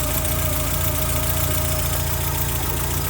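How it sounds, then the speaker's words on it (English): A Volkswagen Golf GTI engine under restoration idling just after install, a loud, steady close-up rumble with a fast rhythmic ticking pulse and no voices. "we have a running engine."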